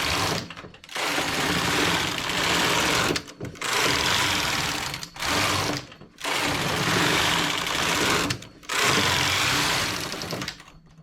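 A knitting machine knits a zigzag vest, its carriage sweeping back and forth in loud, steady rasping passes with brief pauses between rows, close and without talk.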